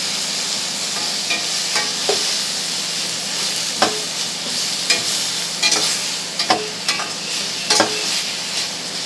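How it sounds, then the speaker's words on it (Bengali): Spices with turmeric and salt sautéed together in a pan: loud, steady sizzling with a rhythmic series of spatula scrapes and taps against the pan, close by, with no talk. "সব মশলাগুলোকে একসঙ্গে কষিয়ে নেব"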